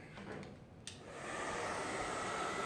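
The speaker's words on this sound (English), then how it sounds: "Now, I'm going to blow dry it" Hair dryer on a warm setting blowing through a beard, starting as a softer airy hum and then settling into a loud, steady whoosh up close after a brief click, with no talking.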